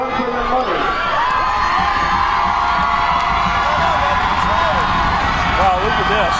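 A high school football crowd at Putnam versus Commerce roars and cheers in a stands-against-stands contest to be louder, a dense sustained wall of shouting and whoops with a commentator talking over it.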